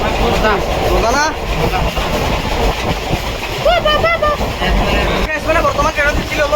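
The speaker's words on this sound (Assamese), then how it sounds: "ঘণ্টামান অপেক্ষাৰ মূৰত ফাইনেল ট্ৰেইনখন আহি পেলাই" A final passenger train pulls into a busy station bound for Kamakhya, its rumbling wheels and rail clatter loud and close, with crowd chatter and voices mixing throughout.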